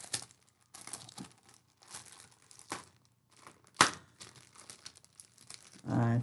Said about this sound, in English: think this tape is holding the bag together. If I can get it, pull it up.